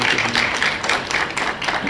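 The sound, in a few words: applause for the Deputy Minister in parliament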